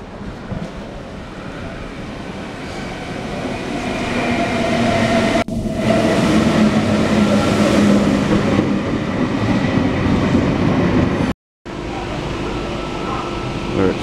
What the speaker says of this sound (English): Strathfield now, just getting off this interurban train and it's going to Central Station in Sydney